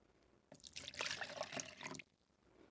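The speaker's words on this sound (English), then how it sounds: "if I pour some of this milky water out" Milky water poured out of a container in a steady splashing stream that lasts about a second and a half, fairly close, then stops abruptly.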